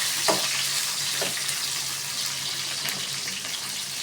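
Cabbage and onions fry in a pan with a steady, broad sizzle, as garlic browns and the mix is stirred, with a few soft scrapes along the way.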